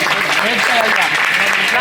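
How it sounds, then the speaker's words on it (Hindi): Audience applause welcoming a speaker at an Aman Committee gathering on Independence Day, a steady wash of clapping over 1.8 seconds with voices mixed in throughout. "तालियों से सर को इस्तकबाल करें।"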